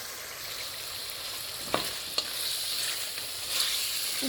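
Garlic, carrots, potatoes and meat fry together in a pot, a steady close sizzle with a few sharp scraping clinks as the mixture is stirred.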